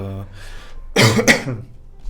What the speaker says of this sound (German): ich muss mal kurz hier einmal husten hier